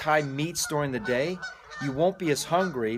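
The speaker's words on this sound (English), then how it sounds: "If you can hear the geese in the background" Geese honk repeatedly nearby in harsh, rhythmic bursts while a person speaks over them.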